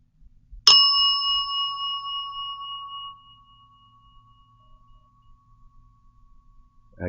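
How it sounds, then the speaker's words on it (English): A single bright bell ding rings out near and clear, then decays slowly over a couple of seconds into near silence. "Don't do the bell."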